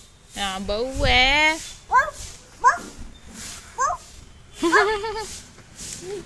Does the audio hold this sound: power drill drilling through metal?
no